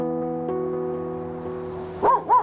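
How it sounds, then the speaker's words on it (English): Farm dog giving non-aggressive alert barks: a steady droning tone runs underneath, then two short, loud barks arrive close together near the end. "He's still maintaining the bark of alert."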